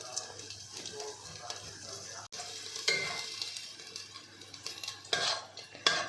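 Food for a hot and sour chicken vegetable soup frying in a pan, a moderate sizzle punctuated by a spatula scraping and clinking against metal, with louder stirring strokes toward the end.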